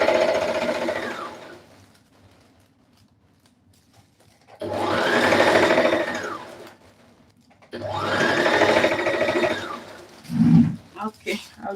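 An electric sewing machine stitches a long blazer jacket in three separate runs of a few seconds each, a rising and falling motorized whir with quiet pauses between, followed by a few short clunks.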